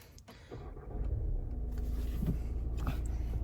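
A Seat Tarraco engine cranks and catches after a click, then settles into a low, steady idle rumble heard close inside the car, with small clicks from the cabin.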